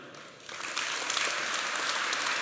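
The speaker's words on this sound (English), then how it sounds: "get your hands out to applaud Michael" Audience applause for Michael Nygard at a developer conference talk, starting as a light patter and swelling after half a second into a steady, dense wash of clapping that holds to the end.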